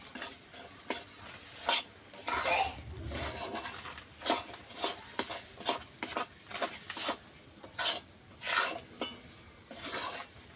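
A spoon scrapes rhythmically through a stiff semolina dough in a pan for palm biscuit pitha, each stroke a short gritty rasp, repeating steadily close by with a faint sizzle underneath.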